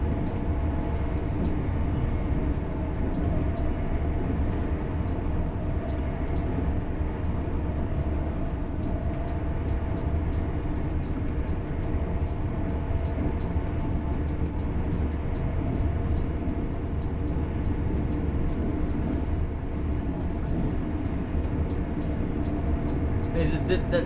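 Constant low rumble of a train interior in a train simulator video game, with rhythmic clicking from the rails and faint talking over the steady drone.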